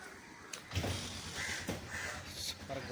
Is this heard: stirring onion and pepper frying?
no